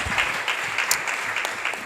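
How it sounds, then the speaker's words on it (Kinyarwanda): Steady applause fills a church service, a continuous patter of many hands clapping at moderate volume with no voices over it. "Tumukomere amashyi cyane abantu bahawe umugisha kubwe"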